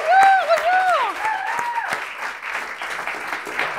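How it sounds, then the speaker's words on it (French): An audience welcomes performer Julia Zemiro with a dense burst of clapping and cheering, loudest at the start and then holding steady, while a voice carries over the first moments. "Tous vos applaudissements, please"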